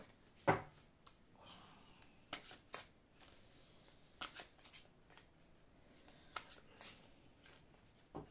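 Oracle cards, angel-of-love advice cards, being shuffled by hand: soft papery riffles and taps in irregular bursts, close and quiet, with no speech over them.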